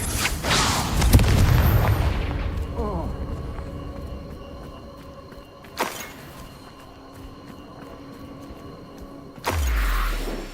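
A Confringo fire spell from the Hogwarts Legacy wizard game bursts with a heavy booming blast that rumbles and fades, followed by a sharp crack and a second deep thump near the end, with voices heard.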